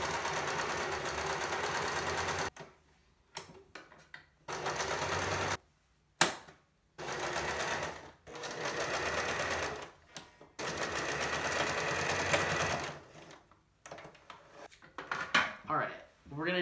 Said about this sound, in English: We're going to begin sewing.